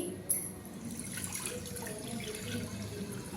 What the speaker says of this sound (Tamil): ஒரு பாத்திரம் அடுப்பில் வச்சாச்சு. இப்போ தண்ணி கொஞ்சம் ஊற்றி